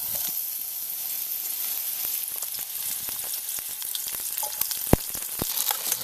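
Freshly picked morel mushrooms fry in oil on a cheap DPower outdoor camping stove, giving a steady close sizzle dotted with sharp crackles and pops.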